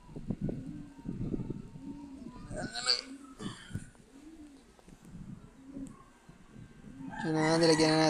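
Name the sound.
birds, likely chickens, waiting to be fed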